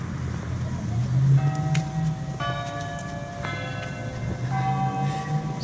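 A bell tolls four times at roughly one-second intervals, each ringing stroke lingering over a low outdoor rumble of traffic.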